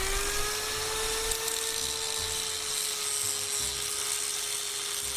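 An angle grinder grinds metal to clean it for a welding prop project. It gives a steady, high-pitched whine that holds level throughout at a moderate distance, with no talk.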